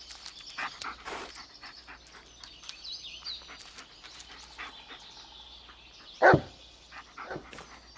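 A dog in the Blair Witch video game gives a loud, close bark at about six seconds, with a few fainter barks and rustling sounds over a quiet forest ambience.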